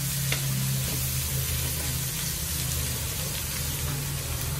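Finely sliced onions fry in a pan for mutton kurma and are stirred until brown. The sizzle is close, steady and even all the way through.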